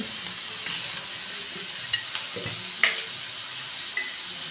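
Spice paste with onion and tomato sizzles steadily in a pan while being cooked down for a Bengali yogurt prawn dish, a close, even frying hiss broken by a few soft stirring clicks.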